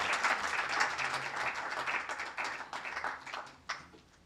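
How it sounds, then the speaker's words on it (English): An audience at a memorial lecture applauds Justice Nagarathna with a sustained burst of clapping that fades gradually over a few seconds, moderately distant with no voices. "please raise your hands and give her a big round of applause"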